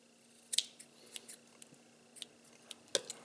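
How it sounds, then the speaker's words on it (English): Scissors snip excess cotton wick on a vape mod, producing several sharp, close cuts spaced irregularly over a quiet room hum. "So then I'll just take my scissors,"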